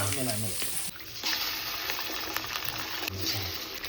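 Onions fry in oil in a pan, giving a steady close hiss and sizzle with faint rustling and a short low murmur at the start.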